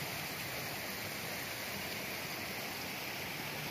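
A creek flows steadily beside a campsite on the Appalachian Trail, a constant dense rushing wash that stays even and unbroken throughout.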